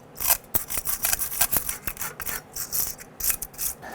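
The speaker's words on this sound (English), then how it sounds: "If it's not clean, you can use a flat file and clean the surface of this a little bit." A flat file rasping across the surface of a brake backing plate on a 1999-2004 Jeep Grand Cherokee, quick repeated scraping strokes in a steady rhythm, close and fairly loud.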